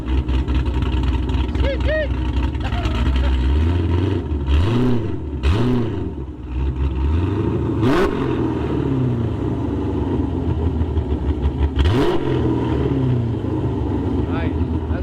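A cammed Hemi V8, a 6.1 with a stall converter, revs in sharp repeated throttle blips over a lumpy, choppy idle, close and loud, with people talking over it.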